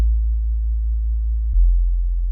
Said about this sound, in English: I turn this on so like it eases into the sine wave.